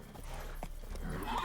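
Hooves of Roach, a horse in a video game, clip-clop at a quick galloping pace under steady game background sound, ending with a brief whinny-like call.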